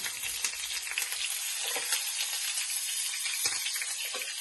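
Cumin, fennel seeds and curry leaves fry in hot oil for a Vanni-style pork curry, giving a dense, steady crackling sizzle with a few soft pops and stirring touches, close and continuous, with no voices.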